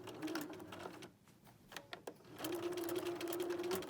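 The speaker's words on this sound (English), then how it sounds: "we've just done one seam, stitching in the ditch, and we will do that throughout the whole quilt" A sewing machine stitches in the ditch along a quilt seam. Its close, quiet, steady whirring hum pauses briefly with a few clicks, then starts again and runs smoothly, with no voices.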